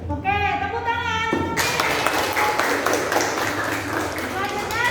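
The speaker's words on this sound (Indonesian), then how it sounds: "Oke, tepuk tangan." Applause in a school classroom lesson: a teacher's voice is heard briefly, then a group bursts into brisk, continuous clapping that carries on under a few more voices.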